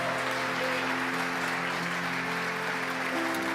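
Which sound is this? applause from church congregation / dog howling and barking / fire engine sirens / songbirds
applause from church congregation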